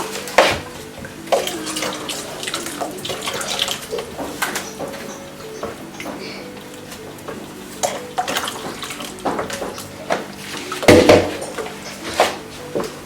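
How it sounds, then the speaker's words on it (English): Water is poured into bean powder batter for moi moi, splashing and trickling in uneven bursts with a few light clinks from the bowl. "So now I'm going to add more water to this one because I know it will be too thick"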